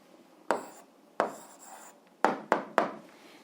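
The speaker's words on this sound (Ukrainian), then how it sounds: "зараз записуємо відповідь, пишемо відповідь" Pen writing out an algebra answer by hand, five short close scratchy strokes with pauses between them, quiet and with no talk.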